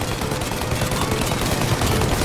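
Gunfire in Mafia Definitive Edition during a car-and-plane chase, a dense, continuous loud fusillade of rapid shots with no pause.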